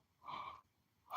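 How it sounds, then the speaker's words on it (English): A person yawns, letting out one breathy, drawn-out exhale, faint and close, followed by a short pause and the start of another breath. "I can't stop yawning sometimes"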